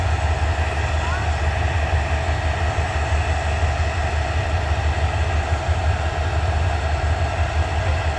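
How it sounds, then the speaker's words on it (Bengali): The Sylhet City intercity express train rumbles steadily out of platform 7 at Dhaka Kamalapur station, a deep, continuous low drone and broad noise, sustained and fairly loud throughout, with faint voices in the background. "আন্তনগর সিলেট সিটি এক্সপ্রেস ঢাকা কমলাপুর 7 নম্বর প্ল্যাটফর্ম থেকে ছেড়ে গেল"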